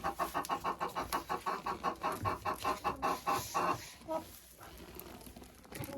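Hens cluck in a steady, rhythmic series of close calls, fading into quieter clucks and coop rustling.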